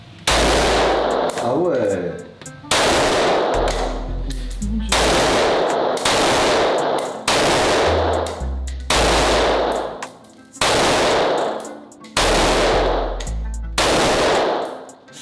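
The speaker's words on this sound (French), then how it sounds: "c'est la Gro qui est une arme suisse qui est utilisée par l'armée suisse" Loud single gunshots from a Swiss army rifle at an indoor shooting range, about nine sharp reports spaced roughly every one to two seconds with ringing decay and brief talk between shots.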